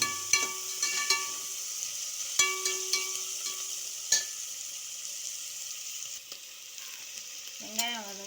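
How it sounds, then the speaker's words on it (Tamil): Onions with green chillies and mint sautéing in a pan for mutton biryani, a soft steady sizzle broken by frequent clicks and scrapes of a spoon stirring, close and fairly quiet. "வெங்காயம் கொஞ்சம் செவர வரைக்கும் வதக்கணும்."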